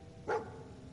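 Dogmeat, the dog companion in Fallout 4, gives a single sharp bark, heard up close over quiet game background ambience.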